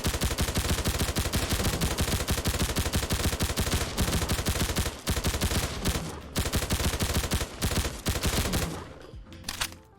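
A PPS-43 submachine gun in a modded Fallout 4 fires rapid, relentless bursts of sharp gunshots that run almost the whole time, with brief pauses between strings before trailing off at the end.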